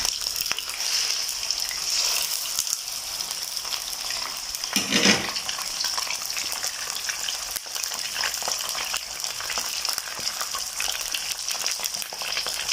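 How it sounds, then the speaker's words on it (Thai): Mekong giant catfish pieces frying in a generous amount of oil in a pan over medium heat, a steady close sizzle and crackle throughout with a brief louder burst partway through. "นำปลาของเรามาทอดก่อน ตรงนี้ค่อนข้างใช้น้ำมันเยอะนิดนึงนะคะ"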